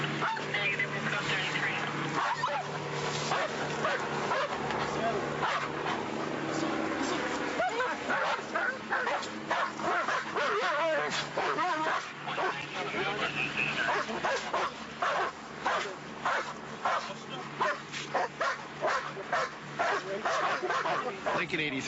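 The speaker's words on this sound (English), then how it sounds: "There's the dog, you guys." Police dog in Fresno, California barking and whimpering in repeated sharp bursts, close and loud, mixed with radio chatter and officers talking throughout.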